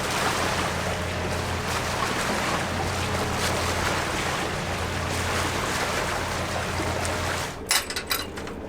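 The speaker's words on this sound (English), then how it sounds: "The outer barrier reef out there. Crashing waves." Steady roar of surf breaking on the outer barrier reef of the Ribbon Reefs, continuous and broad, heard from a sailing boat with wind buffeting the microphone.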